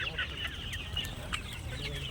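Chickens cluck and squawk in a row of short calls on a free-range poultry farm set in a lemon orchard, the flock close by and fairly quiet over a low steady background rumble.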